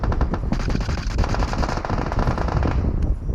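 Dense automatic gunfire from the PUBG Mobile video game rattles continuously in rapid bursts, loud and close, with no pauses throughout.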